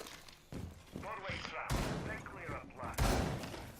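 Pump-action shotgun fire in the video game Rainbow Six Siege: sharp blasts and thuds in a firefight, heard under ongoing talk from players.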